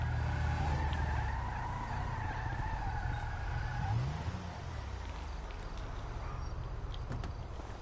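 Video game car engine drones steadily with tonal whine, then a brief tyre skid sweeps through near the middle before the engine settles to a lower, rougher hum.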